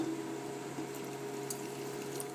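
Fish cooking water is poured into an onion sauce for smoked cod mornay, giving a steady, close liquid pour that runs evenly for about two seconds.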